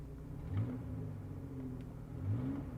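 The engine of a 1986 Pontiac Fiero, just started and not yet warm, idles with a low steady hum and two brief revs that rise and fall, heard close and without talk.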